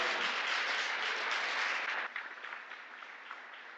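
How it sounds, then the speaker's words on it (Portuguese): A church congregation applauds loudly and densely, the clapping holding full for a couple of seconds before thinning and fading into scattered, quieter claps. "aplauda ao Senhor"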